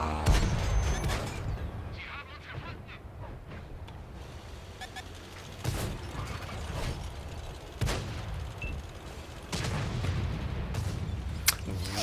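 Tank cannon shots and gunfire in World of Tanks on Xbox: several sharp booms spaced a couple of seconds apart over a continuous rumbling battle background, moderately loud, with no talk.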